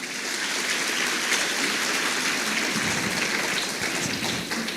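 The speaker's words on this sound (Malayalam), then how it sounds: "നല്ലൊരു കൈയടി കൊടുക്കണ്ടേ?" Audience applause at a state-level student research presentation in Kerala, a steady dense wash of clapping from a crowd that holds for about five seconds with no voices.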